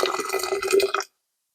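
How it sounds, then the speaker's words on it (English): Boiling water is poured over sugar in a container for making kefir, a short, close splashing gush lasting about a second before stopping abruptly. "I'm going to add some boiling water"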